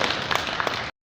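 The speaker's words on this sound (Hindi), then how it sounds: "उनके लिए जोरदार तालियां।" Loud clapping from an audience at a BJP youth wing event marking Subhas Chandra Bose's birth anniversary, a dense burst of hand claps that cuts off abruptly after about a second.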